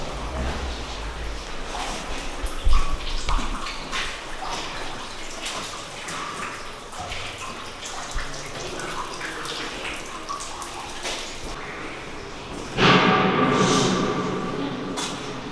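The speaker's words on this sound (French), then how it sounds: "Là c'est super humide, ça coule de partout." Water runs and trickles steadily in the damp underground passages of a Verdun fort, a continuous watery hiss with scattered drips and echoing knocks, swelling louder near the end.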